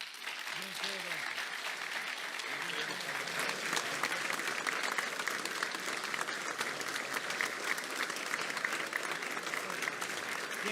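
An audience applauds at a public gathering, continuous dense clapping lasting about ten seconds at a moderate distance, with a voice briefly audible under it at the start.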